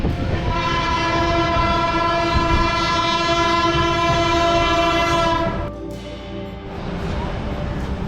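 A passenger train stops at Raniganj station. A loud, sustained horn blares over the rumble of the train for about five seconds, then cuts off, leaving lower, quieter rail noise.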